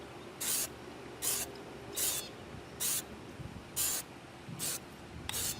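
A spray can lays down Plasti Dip coating on the outer ring of a Ninebot One electric unicycle, seven short hissing bursts at an even rhythm with brief gaps between, close and clear with no talking.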